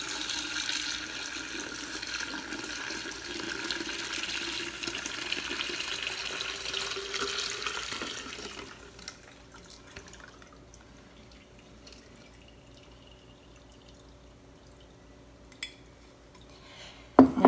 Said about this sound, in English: I'm gonna just pour it through a fine mesh strainer.